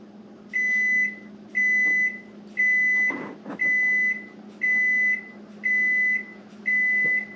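An oven timer beeps in seven steady, evenly spaced bursts, each a sustained high tone, with a brief clatter partway through.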